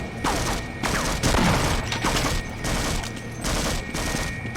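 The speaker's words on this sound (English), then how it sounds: "Who's shooting at me?" Sustained gunfire crackles in the Half-Life video game, loud rapid bursts of shots with brief gaps, close and dense, with no talking.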